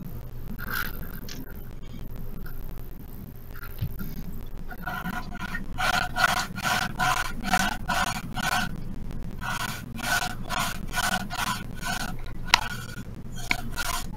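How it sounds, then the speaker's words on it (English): Sandpaper rasps against a scale model, faint at first, then settling into a rhythm of quick back-and-forth strokes that repeat in clear bursts. "they're saying the sanding's coming out pretty loud"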